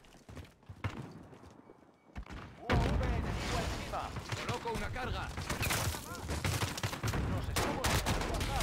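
Rapid bursts of gunfire in Modern Warfare crackle loudly over a busy, layered soundscape after a quieter opening, with a voice talking underneath.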